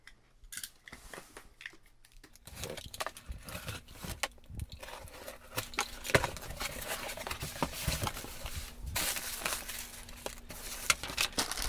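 A Lego.com haul box is cut open and unpacked, with crinkling cardboard and plastic, scraping, and sharp taps and rustles in an irregular burst of close handling noises, under a faint hum.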